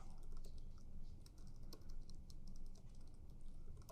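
Steady typing on a computer keyboard during SQL query entry, a dense run of quick clicky keystrokes at close range with no talking.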